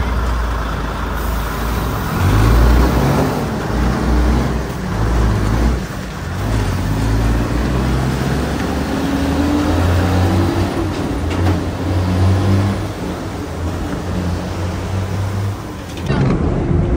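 International 9300 truck with a custom build, its diesel engine running steadily and fairly loud throughout with low rumbling tones, a short break near the end.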